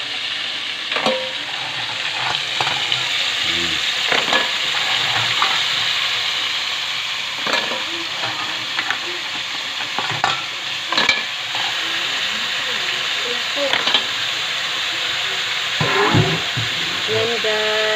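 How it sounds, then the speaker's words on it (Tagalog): Mussels cook in a home kitchen pan with a loud, continuous sizzle and steam hiss, while a spoon scrapes and stirs at intervals throughout. "Nagluluto siya ngayon ng tahong."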